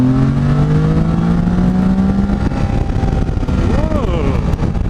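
A Can-Am Spyder F3-S three-wheeled motorcycle accelerates in gear, its engine note climbing in pitch under loud wind rush close to the rider, with a brief voice near the end.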